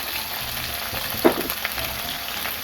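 Vegetables for a Bengali spinach-stem dish tipped into hot oil seasoned with five-spice and dried red chillies in a wok, giving a constant close sizzle with a brief clatter as they land, no voices.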